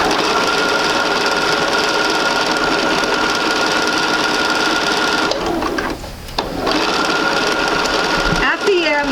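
A sewing machine runs steadily stitching quilt seams, a fast continuous whirring hum close by that pauses briefly before resuming.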